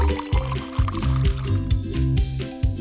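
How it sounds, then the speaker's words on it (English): Hot water is poured over strawberry jello powder and plain gelatin, a close, steady gurgling pour with rhythmic glugs and bubbling, loud and unbroken throughout with no talking. "let's mix together 170 grams of strawberry jello, 85 grams plain gelatin, and about 300 milliliters of hot water"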